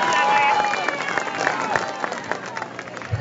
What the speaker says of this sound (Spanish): a quien recibimos con fuertes palmas